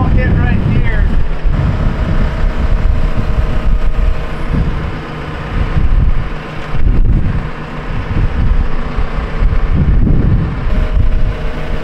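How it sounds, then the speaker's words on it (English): Steady wind blusters across an open microphone outdoors, a broad low roar that swells and eases continuously around talk, with a diesel truck engine rumbling underneath. "I love this wind, that's helping a lot."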